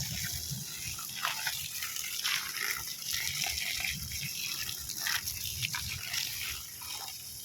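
Water running steadily from a hose while watering garden plants (bamboo shoots) during dry weather, a continuous close gushing splash lasting throughout, with no voices over it.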